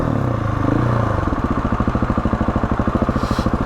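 A motorcycle ridden slowly in a tight circle, its engine loud and close, shifting from a smoother note to a rapid, even thumping low-speed chug as the clutch is worked, no talking.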